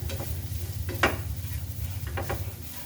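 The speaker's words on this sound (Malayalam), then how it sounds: "നമ്മൾ തേങ്ങ ഇട്ടിട്ട് ജസ്റ്റ് ഒന്ന് ഇളക്കി കൊടുക്കണം." Grated coconut being stirred in a pan, with soft scraping strokes and a light sizzle running steadily underneath and a few brighter scrapes of the utensil, close and moderately quiet, without talk.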